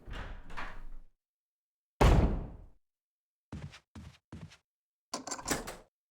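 A mansion door opens and closes in Resident Evil HD Remastered: a creak, a heavy thud, then sharp clicks and a closing rattle, each separated by silence.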